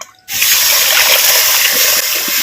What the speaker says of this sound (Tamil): பாசிப்பருப்பு வேக வச்ச தண்ணியை வந்து இப்போ வந்து சேர்த்துக்கிறேன்